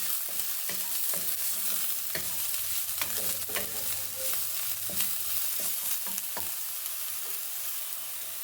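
A medium-sized chopped onion fries in a pan for chicken vegetable soup, a soft steady sizzle broken by repeated sharp scrapes and taps of a spoon as it is stirred.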